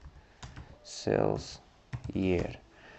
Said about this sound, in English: So I will type in the group by what? Sales year.